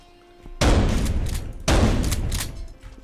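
Two heavy gunshots ring out from the player's weapon in the brawler game Paint the Town Red, each a sudden loud blast with a booming tail, spaced about a second apart.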